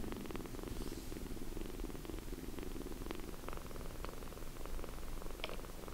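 Kitten in a harness purring: a steady, close, soft rumbling purr that continues throughout without breaks, with a few faint light rustles and no talking.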